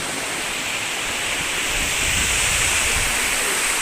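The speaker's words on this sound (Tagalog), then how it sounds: "Ito ang tunay na falls." Waterfall in Bagac, Bataan, a loud, steady, close rush of falling water with no break or voices.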